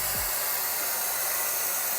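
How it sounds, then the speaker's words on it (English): Neakasa Magic 1 portable vacuum garment steamer with its vacuum fan switched on, giving a steady, close airy whir that starts with a brief low thump and holds evenly throughout. "by pressing the fan button right here, it activates the vacuum, and now we can do it very easily"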